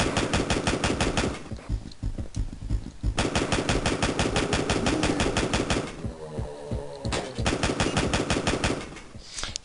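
A chain gun fires in the video game Backtrack, loud and close, in long rapid bursts of rattling shots broken by two or three short pauses.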